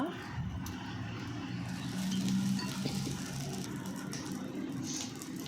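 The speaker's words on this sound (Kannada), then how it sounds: "ಇದಕ್ಕೆ ಸೌಟ್ ಒಗ್ಗರಣೆ ಕೊಡಬೇಕು" Steady sizzling of a spoonful of hot ghee in a pan for tempering, continuous and close, with faint clatter of a utensil and no talking.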